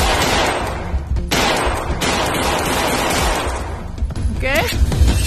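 Rapid gunfire in Half-Life: Alyx played in VR on a Pico 4, with dense, loud bursts of shots and crashes running through the whole stretch against game ambience, with a brief chirping effect near the end.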